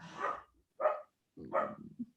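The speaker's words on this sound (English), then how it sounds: "sorry about the dog" Three short, sharp barks from a puppy in the background, separated by brief pauses, with nobody talking over them.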